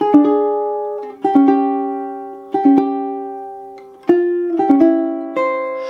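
Jazzy fingerstyle ukulele plays a short passage, clean plucked chords struck one after another and left to ring, with a final chord sustaining as a single note sounds over it.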